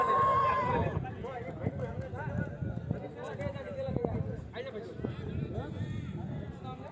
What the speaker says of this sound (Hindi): अब आपके सामने स्टैलियन देव रूप श्री गणेश जी गुजर का घोड़ा